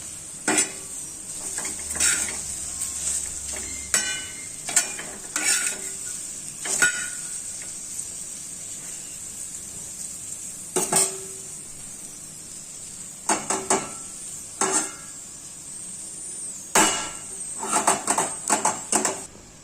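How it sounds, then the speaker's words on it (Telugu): Okra frying in a kadai and being stirred, with repeated scraping and clattering strokes over a steady close sizzle, and no talking. "ఇవన్నీ బెండకాయలు కూడా వేగిపోతున్నాయి"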